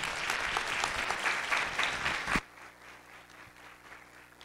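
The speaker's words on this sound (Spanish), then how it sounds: "un aplauso" Audience applause closing a medical lecture on aquatic turtle care: dense clapping fills the first two and a half seconds, then cuts off abruptly, leaving faint room noise.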